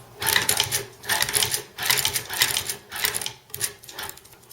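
Chinese clone of a Singer 29K leather patcher sewing machine stitching in several quick bursts of rapid mechanical clatter, each lasting about half a second with brief pauses between, close and fairly loud.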